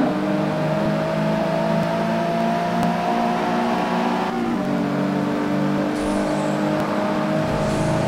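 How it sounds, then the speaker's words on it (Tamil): Engines roar and rev steadily as cars race in the CarX Highway Racing video game, a dense continuous drone with shifting pitch and a slight change midway, loud and without talk. "ரேஸ் ஸ்டார்ட் ஆயிடுச்சுங்க"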